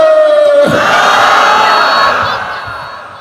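At a religious gathering in Rajshahi, a large crowd chants the takbir, Allahu Akbar, in one loud, sustained collective roar that slowly fades, with a single voice leading just before the crowd answers.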